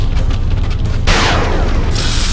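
A grenade goes off in the video game XCOM: Enemy Unknown: a loud, sharp blast bursts out and breaks into a crackling, rumbling tail, with a second burst close after it and no one speaking.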